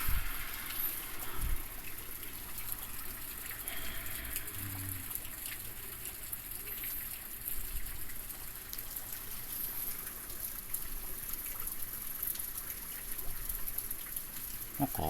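Rain falls during Typhoon No. 14 as a steady, dense wash of patter and trickling water, moderately close and unbroken throughout, with faint low rumbles beneath.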